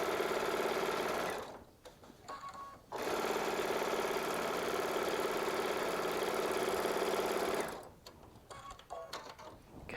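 A Baby Lock Solaris sewing machine piecing quilt blocks, running in a loud steady whir for long stretches, pausing for a few seconds at a time between seams.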